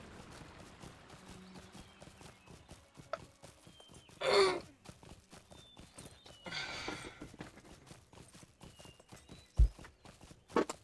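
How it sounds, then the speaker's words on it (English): Horse hooves clip-clop in a brisk, regular rhythm during a ride from Rivendell to Gloin's camp in Lord of the Rings Online, with a couple of louder snorting breaths from the horse partway through. "once I get on the horse from Rivendell to Gloin's camp"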